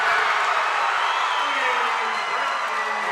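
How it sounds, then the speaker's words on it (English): A basketball crowd roars loudly after a three-pointer splashes in at a Vermont Division 3 high school semifinal between Hazen Union and White River Valley, a sustained dense cheer with whoops and no gaps. "you can tell by the roar of the crowd"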